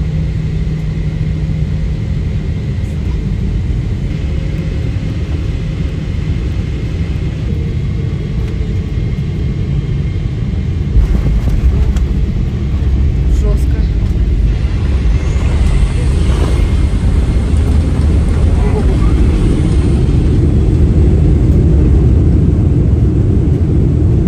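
Steady broadband airplane cabin drone during a long flight, a continuous low rumble and whoosh that holds level throughout with a slight swell partway through.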